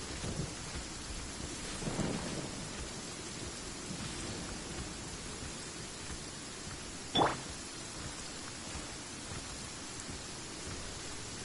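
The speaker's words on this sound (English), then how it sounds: "Why it had to be raining?" Steady rain with rumbling thunder in the video game Genshin Impact, a constant downpour throughout with a sharp close thunder crack partway through and fainter rolls earlier.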